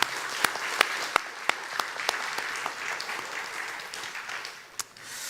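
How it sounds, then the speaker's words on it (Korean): Church congregation applauding the youth group after their special song at a Korean Sunday worship service: loud, dense clapping from a full room, with a few sharp individual claps standing out, continuous throughout. "우리 유스들에게 다시 한번 크게 한번 박수 해주시기 바랍니다."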